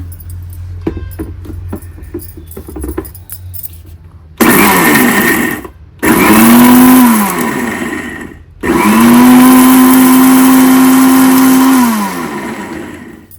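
A mixer grinder pulses on bitter gourd chutney powder in three loud bursts of whirring motor noise separated by short silences, preceded by quieter handling clatter.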